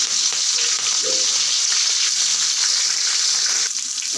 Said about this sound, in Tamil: வெங்காயம் ஆட் பண்ணிக்கிட்டு அது கூடவே நல்லா வதக்கிக்கிறேன்.